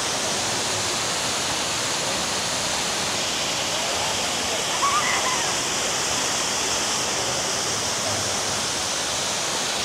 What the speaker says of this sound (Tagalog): Ayun yung para siyang falls. Man-made falls.